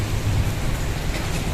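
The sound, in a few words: rain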